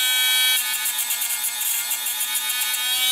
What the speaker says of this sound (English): So I just take the diamond wheel on a rotary tool, and I just scuff it up a little bit.